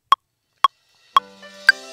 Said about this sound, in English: So Ableton has a click,